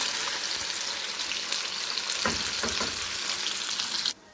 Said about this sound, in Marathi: आता त्यामध्ये आपण जे मिक्सरमधून वाटण तयार करून घेतलं होतं ते घालत आहोत।